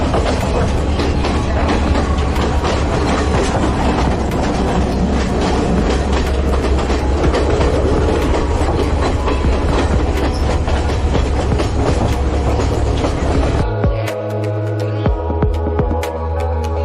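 A train rolls along the rails with a loud, steady rumble and rhythmic clickety-clack of the carriages, the roar dropping away sharply near the end into a lighter, clanking rattle.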